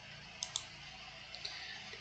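A computer mouse clicks a few times: two quick, faint clicks close together, then two softer ones, over a quiet background hiss with no talking.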